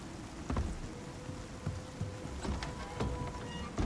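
Steady rain in the survival video game Icarus, a constant hiss of patter with scattered sharper drop ticks close by, heard alone.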